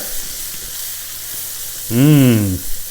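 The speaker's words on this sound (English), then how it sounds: "So give this a stir." Food sizzling steadily in a frying pan for Brussels sprouts with bacon, a constant bright hiss with a brief voiced hum breaking in near the end.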